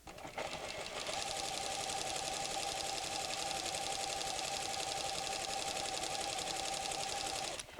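A PFAFF creative 7550 sewing machine stitches fabric in a steady, fast mechanical whir and tick, running continuously and evenly for about seven seconds at moderate loudness, with no voices.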